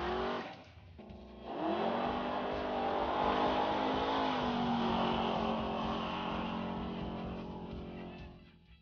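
A 1971 Plymouth Duster with a 500ci big-block V8 makes a drag strip pass, a loud engine roar climbing through rising revs with a gear change early on, sustained and fading slightly as it pulls away, no voices.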